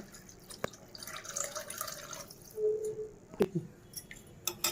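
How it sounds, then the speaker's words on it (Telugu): Strained tamarind extract poured into a simmering taro root curry, with soft liquid splashes and a few sharp drips and clinks of utensils, faint and close, with no speech. "ఇందులో చింతపండు పులుసు వేసేసుకుందాం"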